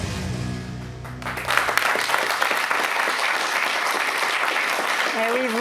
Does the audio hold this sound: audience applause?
yes